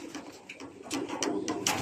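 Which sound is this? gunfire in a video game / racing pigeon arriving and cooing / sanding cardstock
racing pigeon arriving and cooing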